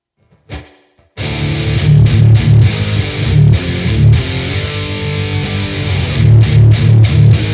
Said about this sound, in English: I'm going to put some chorus and delay in there, maybe make like a lead tone out of it.